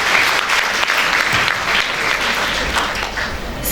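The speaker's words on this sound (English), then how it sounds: "Let us give Sir a huge round of applause." Sustained applause from an assembled audience at a school ceremony holds strong throughout, with a brief louder burst at the very end.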